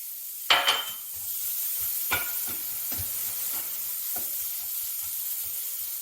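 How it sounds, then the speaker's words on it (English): Onions hit a hot pan and fry with a steady, fairly quiet sizzle, with a louder crackle as they drop in, then a few scraping stirs while the hiss continues. "Just gonna throw in the onions, get that sizzle."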